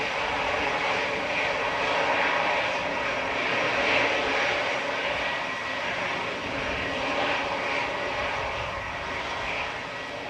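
EasyJet Airbus A320neo from Amsterdam taxiing at Manchester Airport, a steady broadband jet engine roar that holds at moderate distance for ten seconds with no voices.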